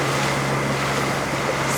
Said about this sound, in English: Here's a dive boat, bro.